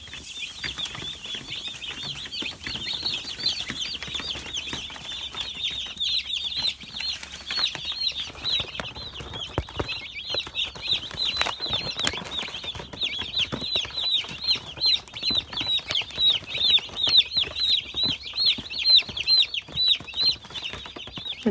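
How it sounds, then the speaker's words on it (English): Chickens pecking at feed with their beaks, a dense run of quick, sharp taps under soft clucking and fluttering wings, close and steady throughout, growing busier toward the end. "every time they make that sound with their beaks when they pick up some of the feed, the other chickens will hear that and try to eat it as well"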